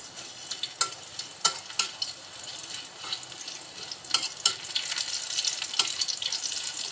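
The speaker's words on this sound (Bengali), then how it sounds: "তেলের ভিতরে দিয়ে দিচ্ছি আমি 2 কোয়া রসুন থেতো করেছি" Two cloves of crushed garlic sizzle in hot oil for a sour-sweet raw mango dish, a steady crackling fry punctuated by sharp pops and spits, close and clear with no talking.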